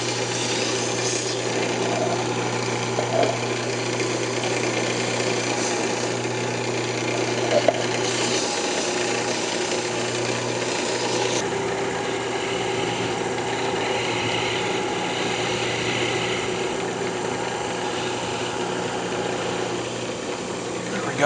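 A wood lathe spins an incense holder while it is sanded with 600-grit paper, giving a steady motor hum with a light, even friction hiss and a couple of small ticks, close and unbroken.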